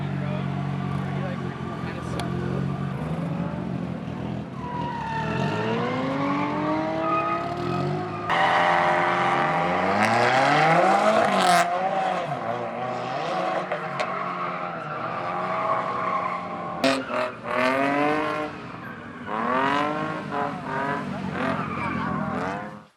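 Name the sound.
turbocharged Nissan 240SX drifting, engine and tire squeal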